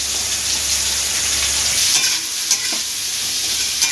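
Chopped onion frying in hot oil in a pan, a loud, continuous sizzle with a few stirring scrapes, heard alone.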